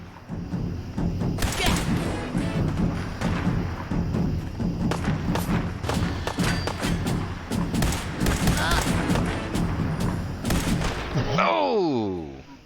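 Enemy gunfire in the post-apocalyptic wasteland game Uncle Kow Dies in the Wasteland rattles in dense, repeated volleys for over ten seconds, loud and close, with a voice occasionally over it and the firing cutting off near the end.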